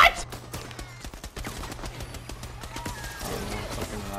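Gunfire in the Worms Rumble deathmatch video game: rapid bursts of sharp shots and clattering automatic fire, dense through the first half and then thinning out, with other game effects underneath.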